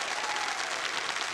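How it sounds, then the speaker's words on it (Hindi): Studio audience applause on a TV quiz show after a contestant answers correctly, a steady dense wash of clapping throughout, fairly near and moderately loud, with no talking. "तालियां बजती रहें जागृत जी के"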